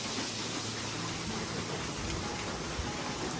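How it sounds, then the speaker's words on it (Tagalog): Heavy rain pours down steadily in a dense, even hiss that fills the whole stretch with no breaks and no other sounds. "Grabe ang ulan."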